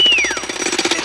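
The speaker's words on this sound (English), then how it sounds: "Why do I hear a jackhammer at the back?" Jackhammer pounding in rapid, steady bursts close by and loud, a bright falling whine at the start, no voices over it.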